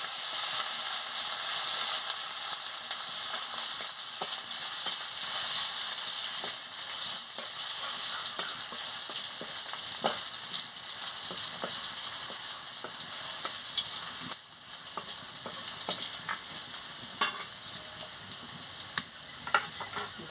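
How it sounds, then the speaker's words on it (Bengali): Dried chilli and garlic paste fries in hot oil, a steady close sizzle with occasional sharper pops and stirring scrapes, quieting slightly toward the end. "তেল গরম হয়ে গেছে, শুকনো লঙ্কা রসুন বাটাটা দিয়ে দিচ্ছি, দিয়ে ভালো করে ভেজে নিচ্ছি।"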